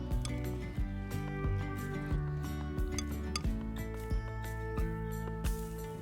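Potato salad being stirred in a bowl with a utensil, irregular clinks and taps against the dish over several seconds, close and fairly clear above a low steady background hum.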